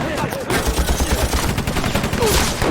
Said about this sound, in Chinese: 郑亚彤，机枪手准备。